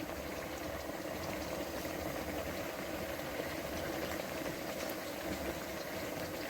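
Beef sautéing in a pot for nihari, a steady, close bubbling and sizzling that holds level throughout with no pauses or talk.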